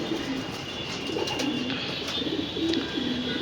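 A racing pigeon coos steadily in low, repeated phrases, close by, over a constant background hiss.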